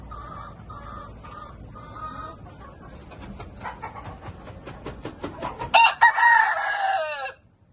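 Hens cluck and a rooster crows in a backyard poultry pen of mixed breeds, including yellow-legged hatch, with low clucking at first, then a rising series of clucks and a loud, close crow near the end.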